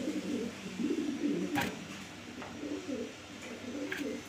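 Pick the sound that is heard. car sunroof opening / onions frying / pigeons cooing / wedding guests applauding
pigeons cooing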